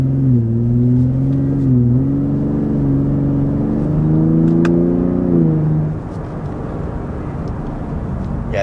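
A 2023 Ford F-150 Raptor with its EcoBoost engine revs steadily, its drone climbing and holding for about six seconds before easing back to a lower, quieter rumble from inside the cabin.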